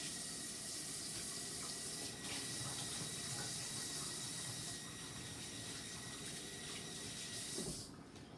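Hands washed under a running kitchen tap, a steady close rush of water that holds for about eight seconds before cutting off.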